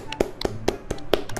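In-game clapping in Slendytubbies 3 multiplayer: a quick, slightly uneven run of about six or seven sharp claps or taps, close and crisp, with faint voice chat in the background.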